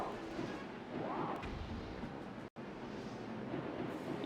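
Bomb arrow explosions in Link's Crossbow Training, a dense continuous rumble of booming blasts layered together with a brief cut of silence midway.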